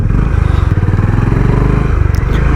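A Honda H'ness CB 350 motorcycle thumps along as it pulls away from the clutch, a loud, close, rhythmic single-cylinder engine pulse with wind noise throughout.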